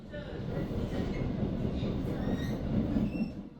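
The Seohae Geumbit passenger train rolls steadily along the rails at about 100 km/h, a dense rumbling roar with faint wheel squeals and rattles, close and continuous.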